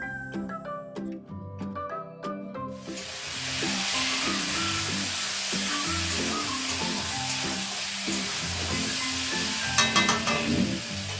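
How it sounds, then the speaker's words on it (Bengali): Mustard oil sizzles loudly with potatoes and pointed gourd frying, a steady broadband hiss that starts abruptly after a few seconds of tonal music, continuing under the music with occasional brighter crackles. "এখন সর্ষের তেল দিয়ে দিচ্ছি।"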